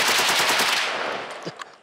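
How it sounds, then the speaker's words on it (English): An M60 machine gun fires a fast, loud burst of rapid chugging shots that ends abruptly, followed by a couple of short echoing knocks. "kind of iconic chug, chug, chug, chug, chug kind of thing that the M60 has"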